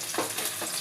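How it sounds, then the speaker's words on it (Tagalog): Spam slices frying in a pan, a brief close sizzle with soft scraping movements, quiet and without talk. "Unahin muna natin pagprito itong spam"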